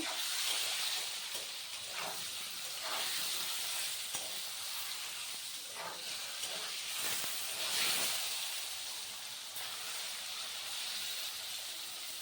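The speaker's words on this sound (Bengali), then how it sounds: "পটলগুলো এখানে ভেজে নিচ্ছি।" Pointed gourds (potol) frying in hot oil, a continuous crackling sizzle with occasional bursts and spatters, steady and fairly quiet at close range, no voices.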